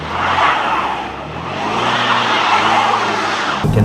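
A 2013 supercharged V6 Jaguar AWD car slides on snow, producing a loud, continuous rushing skid with engine roar rising and falling for several seconds, close up, ending in an abrupt cut.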